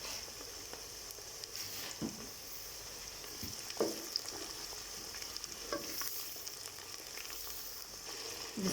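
Ginger garlic paste fries in hot oil for street-style daal mash, a steady faint sizzle and crackle with occasional stirring scrapes and clinks, no talking over it.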